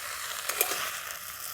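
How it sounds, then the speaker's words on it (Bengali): Fresh coriander leaves tossed in a hot wok to dry off the water make a soft, steady sizzle with a faint stirring tick partway through. "আমি কড়াতে একটুখানি ধনেপাতাগুলোকে নেড়ে নিচ্ছি"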